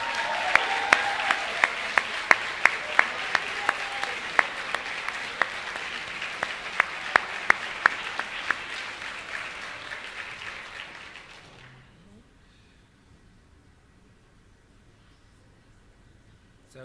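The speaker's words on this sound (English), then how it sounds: "let's give our parents a giant round of applause" Senior band recognition concert audience gives parents a big round of applause, steady crowd clapping with a few sharp claps for about twelve seconds before it stops abruptly, leaving near silence.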